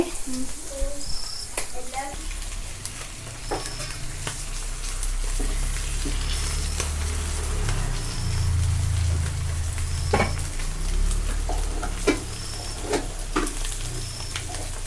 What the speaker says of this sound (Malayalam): വെളിച്ചെണ്ണ കിടന്നിങ്ങനെ മുരിയണം കേട്ടോ